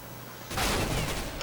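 Sustained rapid gunfire from a weapon in CS:GO, a dense continuous burst that starts suddenly and keeps up loudly to the end.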